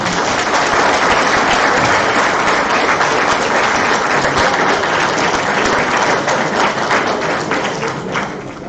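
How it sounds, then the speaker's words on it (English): An audience claps together through a medical conference session on obesity, a dense, loud, sustained ovation that holds steady for several seconds and then starts to thin toward the end. "So 10 seconds of clapping for that."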